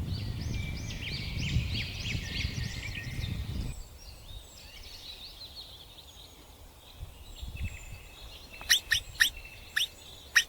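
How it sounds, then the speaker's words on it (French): Flocks of birds calling to one another in open sky, with dense overlapping chirps and tweets at first, then a quieter stretch ending in a few sharp, close calls. "Les oiseaux volaient en groupe, s'appelant les uns les autres dans le ciel clair"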